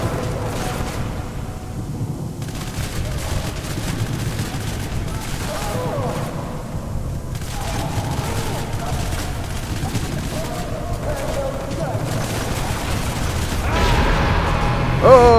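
Gunfire in the violent shooter game Hatred, with rapid bursts and volleys of shots over a steady rumbling game soundscape. The firing swells louder toward the end, and faint voices may sit in the mix.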